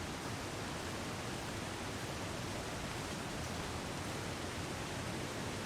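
A video game waterfall roars as a constant, even broadband rush of falling water, steady and unbroken throughout, with no voices.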